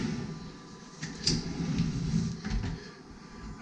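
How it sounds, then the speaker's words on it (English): Kitchen pantry drawers being pulled out in a house, a few soft sliding rumbles and light knocks close by, fairly quiet over a steady room hum with no talking. "These drawers come out."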